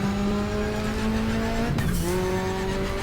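A racing car in GTR2 at Silverstone runs at a steady engine drone, then a short tire squeal and skid cuts in as the rear steps out, followed by the engine settling back to its note.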